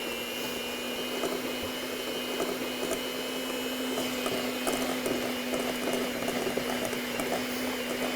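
An electric mixer running at speed while mixing batter, a steady whirring mechanical drone with a constant hum and faint rattling, heard alone without talk throughout.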